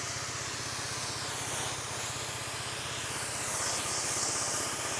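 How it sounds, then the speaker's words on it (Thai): A small motorized sprayer with its super jet nozzle fully opened blasts plain water upward in a loud, constant hiss over a steady low pulsing pump drone. "ฉีดซูเปอร์เจ็ตนี่แล้วเราก็ลองดูว่ามันฉีดได้สูงแค่ไหน"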